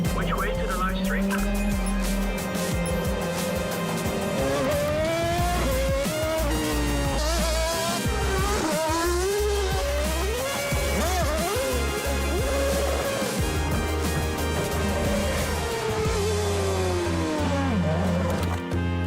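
A Red Bull F1 race car drives with a loud, continuous engine note that rises and falls through revs and gear changes, heard close up and without a break, with talk mixed in.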